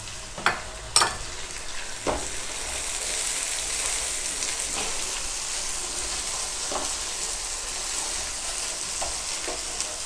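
Steady sizzling of finely chopped tomatoes frying in a pan for white mutton karahi, with a few sharp clinks and stirring scrapes, no voices.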